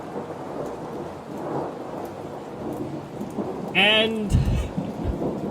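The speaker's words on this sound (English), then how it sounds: "As you can hear in the background, there is currently a thunderstorm running." A thunderstorm outside with steady rain and a loud rolling thunderclap near the end, heard behind game audio with a brief spoken word.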